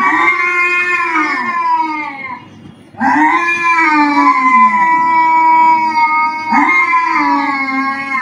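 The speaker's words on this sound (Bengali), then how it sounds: "ও আসলে খুঁজতেছে যে কোথায় বিলাই চিল্লাচিল্লি করতেছে" A recording of a female cat yowling plays at full volume, loud drawn-out wailing cries in three long sweeping calls with a brief pause between them.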